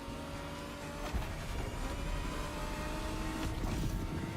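Continuous engine roar from a racing game, steady and droning with slight shifts in pitch, fairly quiet overall, no voices.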